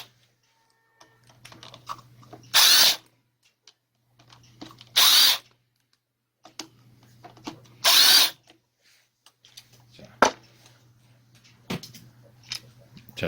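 Power tool bursts undo three bolts on a fertilizer blower that won't start, each a loud high whir of about half a second, separated by quiet stretches with soft clicks and handling noise.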